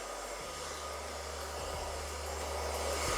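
A hair dryer runs steadily as it dries hair during a keratin Brazilian blow dry treatment, a close, continuous whirring blast that grows slightly louder toward the end, with no talking.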